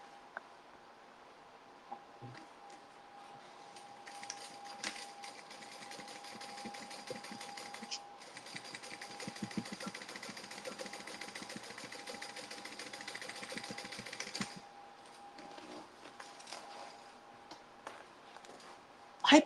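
A sewing machine runs fast, basting stitches on a tote bag, a steady mechanical whirr with brief pauses and restarts, moderately close with no talk over it.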